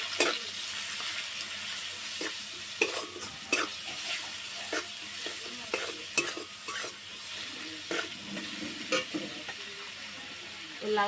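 Pumpkin leaves frying in a pan with turmeric paste sizzle steadily as a spatula stirs and scrapes in repeated scratchy strokes, close and moderately loud, with no talking.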